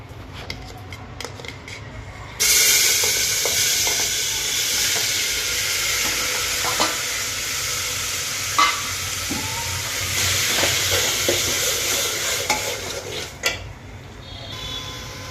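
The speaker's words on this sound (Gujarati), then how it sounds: "ચાલો સરસ મજાનું આપણે ટમેટા સૂપનો વઘાર કરી લઈએ" Sizzling as tomato soup is tempered with butter in a pan, a loud hiss that flares up early and holds steady, with occasional clinks of utensils against the pan.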